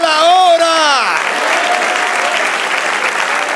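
Church congregation applauding in a sermon service, with a voice and harmonic sung or shouted tones over the first second, then steady dense clapping continuing alone and fairly loud.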